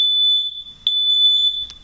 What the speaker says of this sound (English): Was just rudely interrupted by my smoke detector.